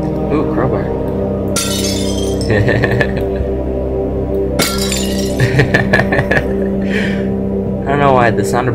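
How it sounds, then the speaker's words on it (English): Glass shatters in the horror video game Amnesia: The Dark Descent, with two sharp bright bursts of breaking and tinkling shards, followed by smaller clinks and debris against a low droning ambience. "I don't know why the sound of breaking glass amuses me."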